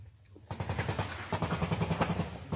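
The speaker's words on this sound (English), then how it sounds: "You hear some gunfire." Rapid bursts of gunfire crackle in a fast, uneven rhythm, fairly distant and muffled, continuing for a couple of seconds, during combat in the Ukraine war near Lyman.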